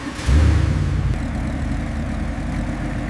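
A giant military tank's heavy engine turns over and catches, settling into a loud, deep, steady idle with a low rumbling throb close by.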